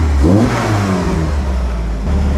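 Classic VW Scirocco engine with an air leak, idling at a steady 850 rpm after a brief rev, a loud, close, continuous low engine drone.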